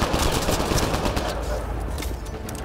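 Gunfire in the Mass Effect Andromeda video game, a dense continuous burst of rapid shots under a steady battle din throughout, with faint game voices mixed in.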